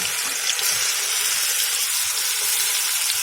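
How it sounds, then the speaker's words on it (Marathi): Spice masala with garlic roasts in hot oil for a Maharashtrian thapeev vadi, giving a steady, dense sizzle and crackle that stays loud and even throughout with no talking. "हा आपण जो मसाला करून घेतला आहे की नाही हा तो मी तेलामध्ये छान भाजून घेणार आहे"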